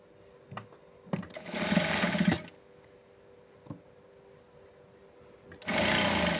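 Electric sewing machine stitching a blouse in a tailoring setup, running in two loud bursts of rapid whirring, one around a second long and another starting near the end, separated by quiet pauses with light clicks.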